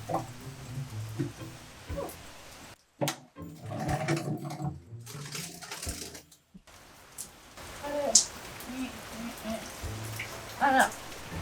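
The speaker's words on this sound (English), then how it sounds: "it's really raining now" Heavy rain falls steadily in a garage setting, a broad continuous patter that runs the whole time, with brief interruptions and scattered clatter as someone moves about and talks intermittently over it.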